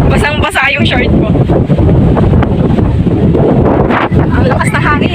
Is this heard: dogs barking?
no